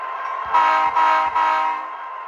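A model train of a Union Pacific SD90/43MAC locomotive (Athearn Genesis 2.0), running in reverse, sounds its horn in three steady blasts over a continuous motor hum, close and fairly loud.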